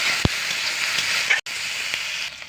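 Dried chili, crushed garlic, green chili and chopped onion sizzle steadily in hot oil, a loud continuous frying hiss with a sharp crackle near the start and a brief drop-out midway.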